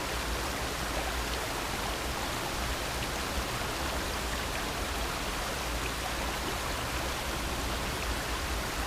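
Small waterfall on Vancouver Island pours steadily as a broad, even rushing hiss, constant and fairly close, with no voices over it.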